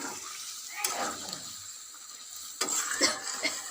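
Chicken kosha being stirred in a pan after a splash of bowl-rinsing water goes in, with soft sizzling, a few spoon scrapes and clinks, and a couple of louder stirring bursts, close and fairly quiet.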